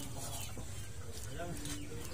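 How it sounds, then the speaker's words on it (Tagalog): Chickens clucking softly in a low, noisy background, with scattered faint clucks over a steady hum. "Yan mga alaga kong mga manok"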